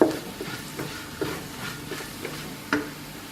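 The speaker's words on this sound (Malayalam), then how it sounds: "ഒന്ന് ഇളക്കുക." A spatula scrapes through Eastern brand chicken masala in a sizzling frying pan, giving a few irregular stirring strokes over a steady frying hiss.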